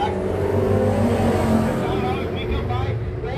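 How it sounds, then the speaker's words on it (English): Fabco Pro Stock race cars roar together through the first qualifying heat of the evening at Can-Am Speedway, a loud, continuous engine drone that swells and shifts, with a commentator talking over it. "those 3 cars continue to put on a show here for the first qualifying heat of the evening for the Fabco Pro Stock"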